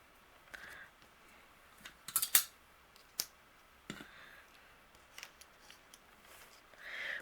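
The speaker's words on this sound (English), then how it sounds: "I'm going to take the coordinating dies and I'm going to die cut out our images" Card images are cut out in a quiet craft room, with sparse faint snips and clicks spread irregularly over several seconds and a small cluster of sharper cuts near the middle.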